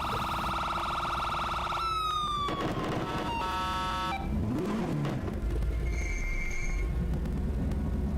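A loud, close safety car siren at a European Hill Climb Championship round, cycling through several tones: a steady wail, rapid yelping bursts, then a two-tone pattern, with no voices.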